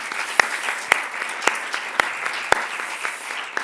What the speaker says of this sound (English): So first, applause for you